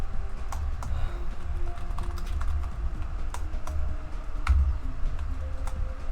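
Steady rapid typing on a computer keyboard, close and continuous clicking keystrokes over a low background hum, with no talk.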